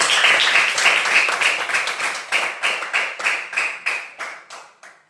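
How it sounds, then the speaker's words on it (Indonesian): A group claps in applause after a classroom group presentation, dense clapping at first that thins into separate, fading claps over five seconds with no talk. "Kita beri aplaus untuk kelompok 3."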